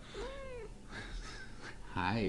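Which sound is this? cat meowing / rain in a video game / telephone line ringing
cat meowing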